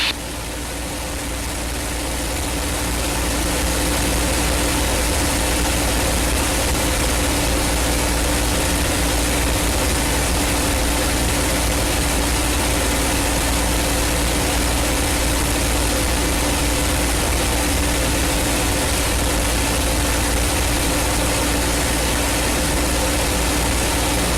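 A P-51 Mustang's piston engine drones steadily in flight with a constant low hum and broad roar, loud and unbroken, as heard from inside the cockpit with no talk over it.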